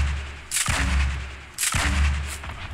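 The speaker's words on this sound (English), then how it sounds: "And she's trying to snipe me." Two loud sniper rifle shots in Fortnite Battle Royale, each a sharp crack followed by a booming echo that fades before the next, about a second apart.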